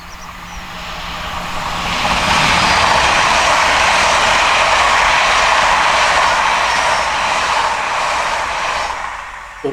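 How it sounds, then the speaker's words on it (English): LNER Azuma train passing at speed on the East Coast Main Line, a broad rushing roar that builds over two seconds, holds loud and steady, then starts to fade. "southbound LNER Azuma 801229 heading the 1 Echo 12 Edinburgh to London King's Cross service"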